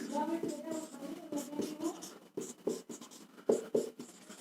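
Chalk or marker writing trigonometric ratios on a board, scratchy strokes coming in short bursts close by, mixed with a teacher's talk throughout.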